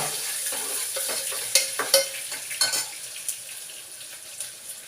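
Onions frying in a pan with a steady high sizzle, broken by scrapes and taps as a spoon stirs them. Close and fairly loud, with no one speaking.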